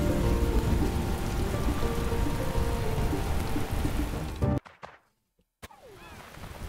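Heavy rain in the video game Paleo Pines: a dense, loud downpour hiss with a thunder-like rumble, cutting abruptly to near silence and then returning faintly.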